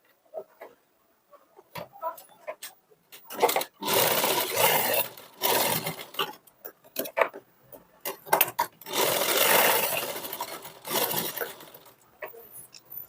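A sewing machine runs diagonal stitches along a bias strip for blouse piping, in several close bursts of a few seconds each, separated by quiet pauses with faint handling noises and no talking.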